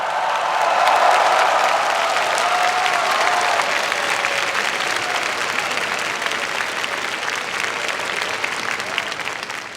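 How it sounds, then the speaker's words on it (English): Graduates at a computer science and engineering graduation ceremony clap and cheer loudly, a dense, sustained roar of applause and whoops that fills the hall and fades slightly toward the end. "Can you express your joy and gratitude to those who supported you by clapping and cheering as loud as you can?"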